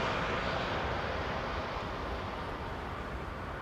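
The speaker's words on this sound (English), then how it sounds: "EasyJet is landing over here" EasyJet airliner landing at Amsterdam Schiphol, a steady broad jet engine roar with low rumble, continuous and fairly loud throughout.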